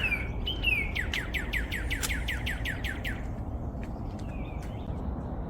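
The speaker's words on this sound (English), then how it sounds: "That bird has a pretty cry." A red songbird, not a cardinal, calls outdoors in rural Japan: a rapid series of about a dozen bright, clipped chirps in a rhythmic trill, followed by a few scattered whistled notes over low background rumble.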